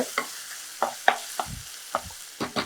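Ginger garlic paste being stirred into a frying coconut mixture for a quail and small-potato fry, a soft background sizzle punctuated by about eight sharp scraping strokes and clinks of the spoon, with no voices.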